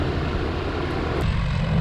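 A fixed-wing airplane taxiing in, heard as a steady, broad engine and propeller rumble that holds at an even loud level for the whole stretch, with no voices.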